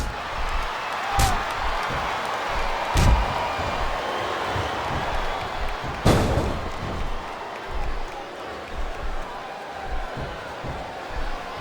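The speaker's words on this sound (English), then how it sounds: "Sounds like this crowd's got something on their minds" Large wrestling arena crowd at a WWE pay-per-view event, a steady roar of many voices with a few sharp slams or thuds cutting through, the noise swelling and dipping throughout.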